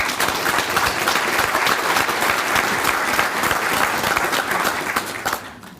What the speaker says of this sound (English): please join me in giving a welcoming round of applause to all these folks who are considering employee ownership